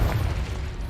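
A Confringo spell exploding in Hogwarts Legacy, a low, rumbling boom that fades slowly over about a second, with no voices.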